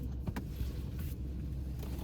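Muffled cabin ambience inside a car, with steady low rumble and a few soft knocks and brief whirring sounds, like a power window or small movements close by; nobody speaks.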